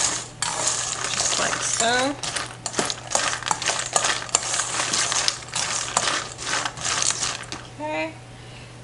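Chickpeas tossed with olive oil in a bowl, a busy rattling clatter of hard little beans against the bowl, with brief spoken words partway through.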